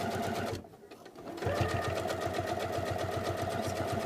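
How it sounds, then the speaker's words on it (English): A sewing machine top stitching along a collar stand runs in a close, steady whir, stopping briefly near the start and then resuming at full speed. "just top stitch right along the inside of that collar stand"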